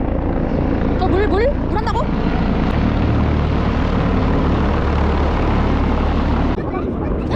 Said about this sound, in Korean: 어, 또 헬기 날라가는데?